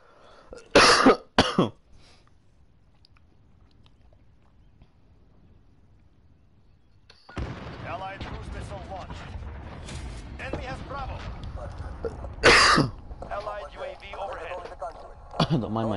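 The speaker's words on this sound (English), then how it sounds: "Don't mind my coughing." A man coughing during a live PS4 game broadcast: two harsh, loud coughs near the start, a quiet stretch, then game sounds and talk with another sharp cough partway through.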